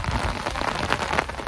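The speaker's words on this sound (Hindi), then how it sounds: "सो ये हम लोग बारिश में निकल गए" Steady rain falls outdoors with a dense, close patter on surfaces and no voices.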